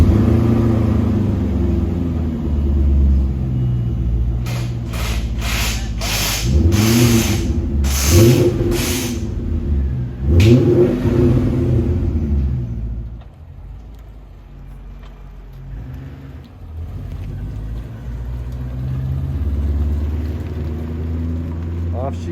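A BMW E39 engine starting up for the first time, with a couple of cranking bursts and revs before settling into a steady low idle rumble, close by and fairly loud, with talk over parts of it.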